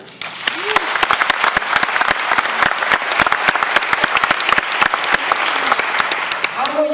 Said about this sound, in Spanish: Yo quiero un aplauso para Amway.